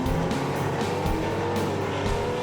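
Hot rod cars rev loudly and roar past nearby, a continuous engine drone with rising whooshes as each car goes by.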